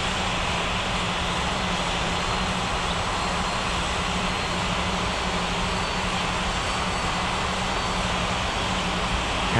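Airliner taking off in the air traffic control game Unmatched Air Traffic Control, a loud, steady broadband engine roar that holds constant throughout with no talk over it.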